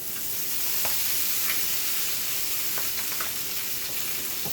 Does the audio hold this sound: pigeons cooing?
no